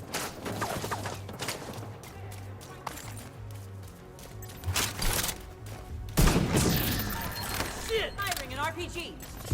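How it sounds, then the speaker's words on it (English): An RPG fired in The Division 2, with scattered gunfire and thuds building to a heavy blast and rumbling explosion partway through, while a voice talks over the game action. "Firing an RPG."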